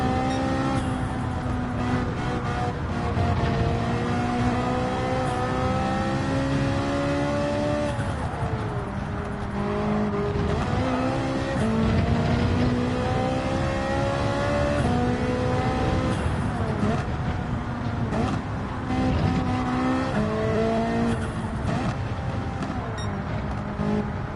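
Race car engines in the Gran Turismo 7 video game, a steady blend of revving engines rising and falling through gear shifts for the whole stretch, loud and continuous with overlapping cars.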